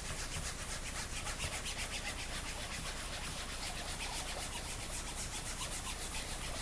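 Wipe rubbed in light circular strokes over a cap, a soft, steady rhythmic scrubbing and swishing at close range, faint and continuous with no voices.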